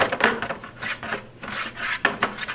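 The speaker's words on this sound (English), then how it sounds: "Using that cover to get the excess paint off of the roller." Paint roller rolled against a cover to strip off excess paint, giving a series of close, rough, rhythmic rubbing strokes without any voice.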